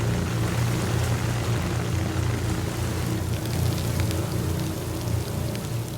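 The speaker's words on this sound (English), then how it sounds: "For over an hour, the artificial rain drenched the piece of heavy artillery." Heavy artificial rain from a rain machine pours steadily over a piece of heavy artillery, a dense, unbroken hiss and patter that stays loud and constant throughout.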